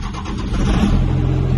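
A first-generation truck, just topped off with transmission fluid after a torque converter install, revs its engine and pulls away, a steady loud rumble building and holding with no talk.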